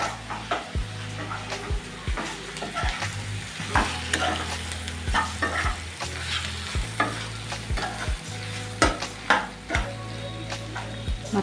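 Spicy mutton curry sizzles steadily in a pan while a spoon stirs it, with repeated scraping and clinking strokes against the metal over a continuous frying hiss and a low steady hum.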